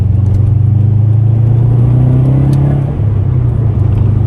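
Steady engine hum and road rumble from a Subaru WRX driving on a mountain road, a constant mid-level drone heard from inside the car with a brief dip near the end.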